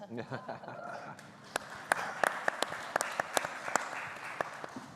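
Audience applause at a naturalization ceremony, scattered at first and then a run of sharp claps across the room, with some talk underneath at the start.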